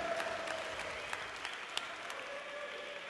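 Crowd at a darts match clapping and cheering in an arena, a dense, continuous wash of applause with a few sharper claps standing out, fading slightly toward the end, with faint voices in the mix.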